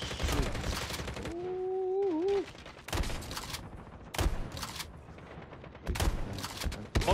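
Rapid bursts of gunfire from a Call of Duty Mobile battle royale match crack out in several clusters, loud and close, with a short gap in between.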